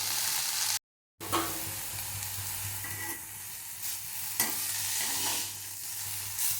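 Mint leaves sautéing in a pan over medium heat, a steady quiet sizzle with intermittent stirring scrapes and taps, close and continuous except for a brief dropout of silence near the start, no voices.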